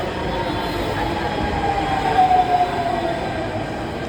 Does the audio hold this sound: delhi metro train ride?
yes